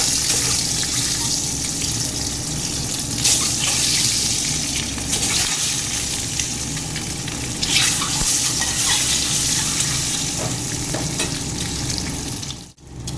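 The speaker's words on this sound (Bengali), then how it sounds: "কড়াই বসিয়ে দিয়েছি, তেলও দিয়ে দিয়েছি। ডিমগুলো একটা একটা করে ভেজে নেব।" Boiled eggs frying one at a time in hot oil in a kadai give a steady, close sizzle with stirring and spatter throughout, briefly cutting off near the end.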